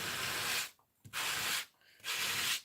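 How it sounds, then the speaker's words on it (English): Three close back-and-forth strokes of sanding on a paper Christmas card craft piece, each a steady scratchy rasp lasting about half a second, separated by short quiet gaps, with no talking. "So I'm just going to sand this."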